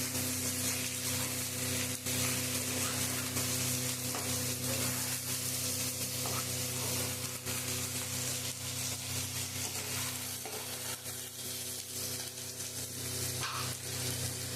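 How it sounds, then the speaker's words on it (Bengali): Chopped tomato and capsicum sizzle in a pan for paneer masala, a steady, close hiss of frying oil that continues for the whole stretch with occasional stirring scrapes and no talking. "টমেটোর সাথেই ক্যাপসিকামটাও দিয়ে দেবো"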